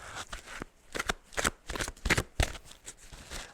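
Close, crisp riffling of a deck of playing cards being shuffled, several quick bursts of card flutter in a quiet room.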